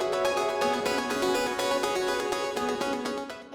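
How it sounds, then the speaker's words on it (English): A track's main synth sustains as a thick, wide chordal pad with rich harmonics across the range, holding steadily loud before easing off at the end, with no voices. "to the main synth, which is what you hear throughout the whole track"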